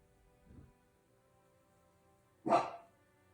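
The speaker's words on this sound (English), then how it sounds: "Don't mind my dogs." Dogs bark indoors during a knitting or crochet mittens session, with one faint low woof followed a couple of seconds later by a single louder, sharper bark, otherwise quiet.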